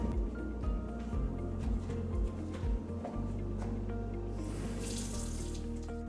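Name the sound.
washing hands under a running tap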